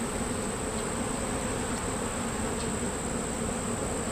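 Honeybees buzz steadily and continuously at an open hive frame during an inspection, a dense close swarm drone with no talking.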